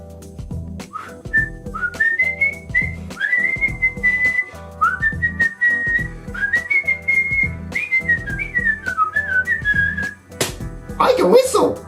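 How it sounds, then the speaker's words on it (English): A person whistles a wavering, rising and falling melody, clear and close, over a rhythmic backing track, ending in a short burst of noise. "I can whistle."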